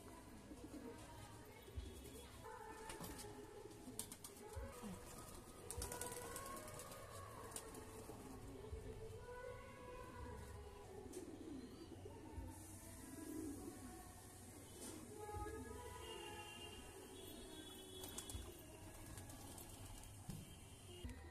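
Old-breed flying pigeons cooing in a loft, soft low throaty calls repeating over a steady background hum, no talk.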